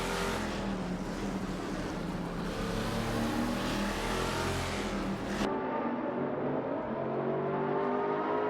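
GTR race cars lapping Mugello in an AI racing video game: a continuous, dense engine roar and tyre noise that suddenly dulls and loses its brightness partway through.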